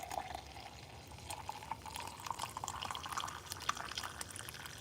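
Water is poured by hand to make coffee, a faint, steady trickle with small splashes and drips running continuously at close range in a quiet room.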